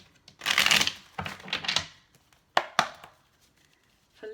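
Tarot cards being shuffled by hand up close, several brisk riffling bursts in quick succession followed by a couple of sharp taps, with no talking.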